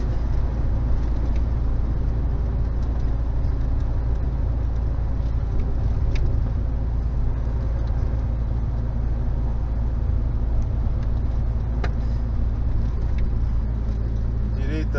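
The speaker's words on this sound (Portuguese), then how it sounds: "Vou frear um pouquinho aqui." Car interior while driving on highway BR 146 near Serra do Salitre, Minas Gerais, as the car slows down: a steady low road and engine rumble with faint rattles throughout.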